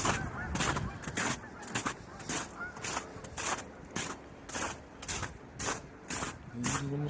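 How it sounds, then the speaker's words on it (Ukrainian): A large flock of geese honks in the snow in Ottawa, repeated nasal calls overlapping in an irregular chorus at moderate distance, with a person speaking over them. "А там ціла банда цих гусей"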